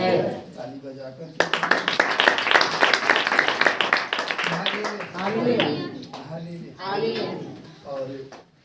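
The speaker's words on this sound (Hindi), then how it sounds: "यीशु मसीह की ताली बजाकर" Church congregation at a Hindi-language Saturday prayer meeting bursts into loud, rapid clapping in praise of Jesus, a dense burst lasting about four seconds before voices take over with talk and singing.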